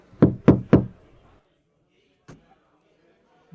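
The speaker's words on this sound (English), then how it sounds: "So, Castor, you are going to hear a light knock at your door" Three quick, light knocks land on a door in an even rhythm, crisp and close, followed by quiet and a faint single tap.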